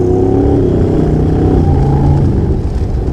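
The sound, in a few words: Honda NC750X motorcycle accelerating and upshifting on race track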